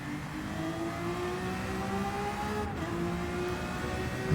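The Lamborghini V12 Vision Gran Turismo racing car's V12 engine in a racing game on the Circuit de Sainte-Croix, a steady rising whine as it accelerates hard, close and continuous with no talk.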